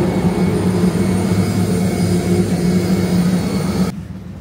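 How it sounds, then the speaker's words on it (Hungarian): Steady, loud jet engine roar inside an Airbus A321neo airliner cabin, a constant broadband rumble with a faint whine, dropping off abruptly at the end. "A repülőgépünk egy Airbus"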